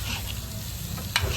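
Finely chopped raw mango being stirred in a hot pan: a steady close sizzle with a brief sharper scrape near the end, no voices.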